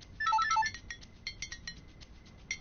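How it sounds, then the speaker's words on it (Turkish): A telephone rings with a bright, repeated electronic ringtone of quick warbling notes, starting loud and then continuing as fainter chirps, with no talking over it. "Telefon. Hadi telefona bakayım önemli olabilir."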